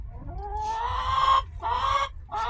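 A chicken standing on a kitchen counter clucks loudly and close by in a few drawn-out, rising calls separated by short pauses.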